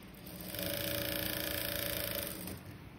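Sewing machine stitching a blouse, running as a fast, steady mechanical whir with rapid needle clatter for a few seconds before slowing down, close and alone.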